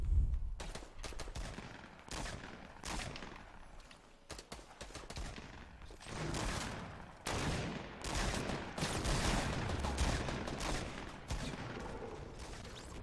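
Gunfire in the battle royale video game Fortnite, a chaotic mix of shots and bursts crackling from several directions at mid distance, fairly quiet and continuous with no voices.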